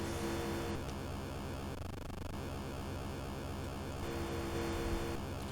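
Race car engine in the Atari 7800 game Pole Position 2, a steady synthesized buzzing drone that holds constant with slight pitch wavering throughout, loud and alone with no talking.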